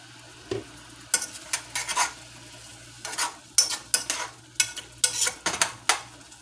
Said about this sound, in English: so let that simmer and bring all the flavors together